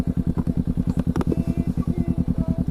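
A parked motorcycle's engine idles close by with a steady, loud, evenly pulsing thump, left running for a while to cool down, with a few faint clicks and clatters over it.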